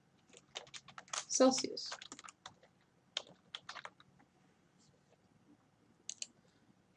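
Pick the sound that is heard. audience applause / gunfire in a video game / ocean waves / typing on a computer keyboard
typing on a computer keyboard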